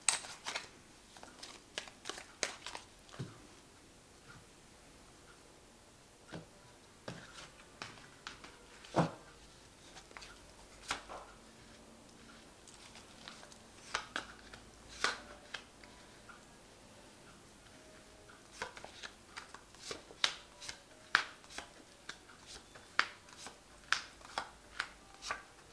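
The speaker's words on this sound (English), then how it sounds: "I have shuffled this deck. I'm just going to draw some cards from it." A deck of tarot cards is shuffled and cards are drawn, producing quiet, close, irregular flicks, snaps and taps that come in scattered bursts over a faint background.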